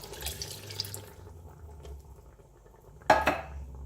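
Liquid poured into an emptied enchilada sauce can to rinse it out, a close splashing and sloshing in a kitchen with a brief metallic clink from the can near the end.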